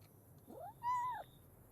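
A cat in the video game Fallout meows twice, a short rising call followed by a longer drawn-out meow, clear and close against a quiet background hum.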